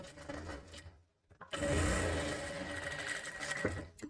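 A sewing machine runs in two bursts while stitching a katori blouse, a short whir that stops briefly, then a longer, louder steady run close up.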